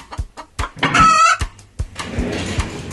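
A chicken clucks in short bursts and a rooster crows once, close and loud, with scattered clucks continuing afterward against a quiet background.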